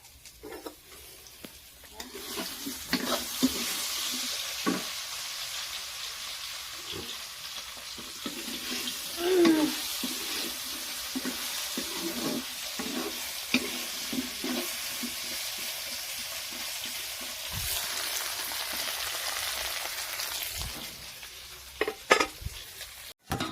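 Raw plantain frying in a pan, a steady close sizzle running throughout, with occasional stirring knocks and clatter on top; no talking.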